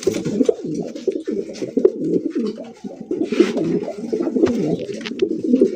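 Several pigeons at a pigeon farm coo continuously in low, throaty, overlapping rolls, close and steady with faint background noise and no talking.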